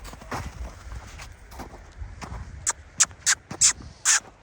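A stallion's hooves clip-clop at a walk in a steady, uneven rhythm. The last few steps ring sharper and louder, as if on a harder surface.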